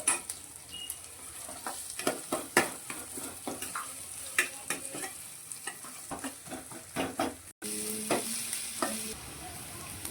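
Onions and green chilies frying in a pan, a low sizzle with irregular scraping and clinking from a stirring spoon, close but quiet, no one speaking.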